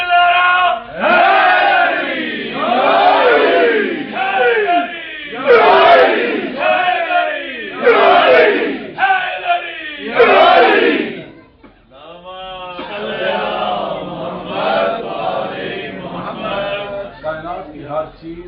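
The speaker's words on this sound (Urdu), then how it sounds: "ایسا نعرہ سنائیں کہ آپ کی یہ دلوں کی آواز مولا کے حرم اطہر تک پہنچے" A large crowd at a religious gathering chanting slogans in unison, with loud, rhythmic bursts of shouted voices repeating in waves, briefly dipping before the chant picks up again.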